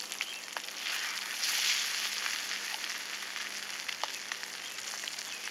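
Floured morel mushrooms fry in butter in a pot, with a steady soft sizzle and scattered small pops and crackles, heard alone and close.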